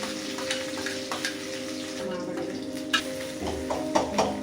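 Cumin, onion and green chillies frying in oil for corn veg fried rice give a steady sizzle, with scattered spoon-stirring clicks and scrapes over a constant low hum.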